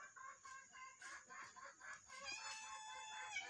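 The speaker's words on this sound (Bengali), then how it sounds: "ওই যে মুরগিগুলা ঘরের ভিতরে আছে" Hens inside a house cluck in a quick run of short, repeated calls, fairly faint and close, with no talk over them.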